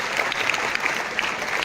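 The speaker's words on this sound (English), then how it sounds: "Let's clap for our minister and the MLAs as they go." An audience at a career guidance talk for school students in Baina claps for a departing minister and MLAs; sustained, fairly loud crowd applause with dense overlapping hand claps.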